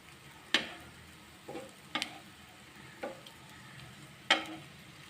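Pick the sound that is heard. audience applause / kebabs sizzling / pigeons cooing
kebabs sizzling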